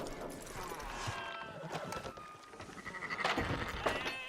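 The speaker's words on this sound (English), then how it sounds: "Fine sheep." Sheep bleat in Red Dead Redemption 2 as livestock are driven back to the yards, with hoof clatter and a few overlapping bleats at moderate distance under game ambience.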